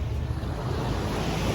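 Ocean surf washes steadily onto a beach in Busan, Korea, a continuous loud roar of breaking waves with wind rumbling across the microphone and no voices.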